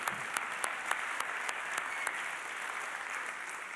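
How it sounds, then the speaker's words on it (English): Audience applause at a VR Awards ceremony, a sparse, tepid patter of claps with a few sharper individual hand claps standing out over a steady wash of crowd noise. "you seem to have the instinct during the finalists to sometimes applaud, but you're being very tepid about it"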